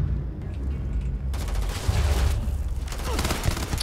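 Sustained gunfire from a weapon in the space game Starfield, a dense rattling burst of rapid shots that swells after the first second and keeps going loud and close.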